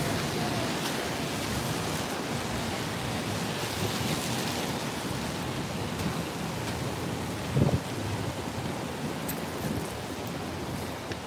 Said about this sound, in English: What I love during my rain videos is listening to all the sounds